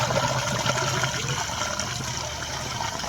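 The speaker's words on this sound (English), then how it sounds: "it's gonna dump over there. Hear it? That should be the black water tank." Wastewater from a camper's black water tank drains through a hose, a continuous rushing, gurgling flow of liquid heard close and steady for the whole stretch.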